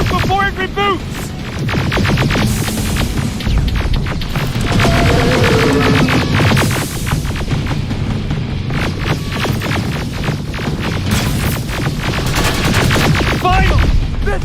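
Gunfire in Terminator: Resistance, rapid bursts of shots over a loud throbbing hum, with voices calling out between volleys.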